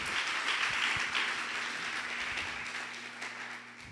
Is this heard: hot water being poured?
no